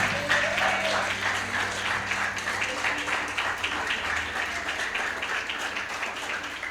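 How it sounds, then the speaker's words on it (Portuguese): A church congregation applauds loudly and steadily in a long, even wash of clapping, with a faint low hum from the sound system underneath. "Você pode dar glória a Deus e aplaudir a ele bem forte?"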